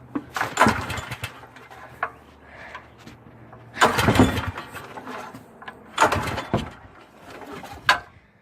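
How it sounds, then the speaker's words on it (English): A Robin Subaru small engine failing to start: several separate pull-cord cranking bursts, each sputtering briefly and dying, with quiet gaps between attempts, close to the microphone. "It's not starting."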